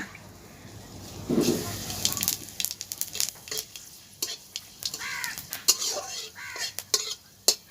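Panch phoron spices dropped into a little hot mustard oil with dried red chillies in a pan, giving soft sizzling with sharp clinks and stirring taps, and a voice speaking briefly near the start.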